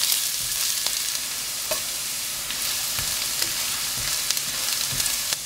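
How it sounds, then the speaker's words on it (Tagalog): Onion and garlic sautéing in oil in a pan, with a steady loud sizzle and occasional stirring clinks against the pan, close and continuous. "maggisa tayo ng sibuyas at bawang"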